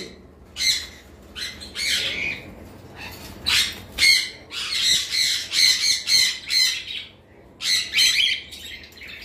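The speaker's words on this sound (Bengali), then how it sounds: "এখানে দুইটা কোকাটেল আছে, এটা আসলে ডিম পাড়া কোকাটেল" Loud, harsh cockatiel squawks come in repeated bursts close by, with short pauses between calls and faint rustling and flapping in the background.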